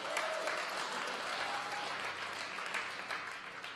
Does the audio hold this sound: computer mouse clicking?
no